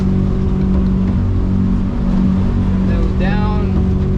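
The motor of a 2007 Weldcraft Ocean King boat runs steadily with a loud, constant droning hum, close by and filling the clip, while a voice cuts in briefly near the end.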